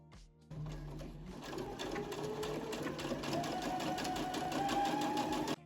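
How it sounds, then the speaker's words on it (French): A sewing machine stitches a skirt hem in a steady, continuous run that lasts most of the moment. It is close, loud and alone, with a faint rising whine toward the end. "je vais piquer l'ourlet"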